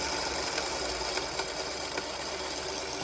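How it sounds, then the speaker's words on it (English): Sewing machine running steadily while stitching quilt block pieces, a continuous close mechanical whir with faint regular ticks. "I'm going to start sewing at the corner here and then follow this corner right here."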